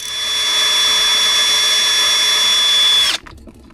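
A power drill drilling into fiberglass whines at high speed in one loud, continuous burst for about three seconds, then cuts off abruptly.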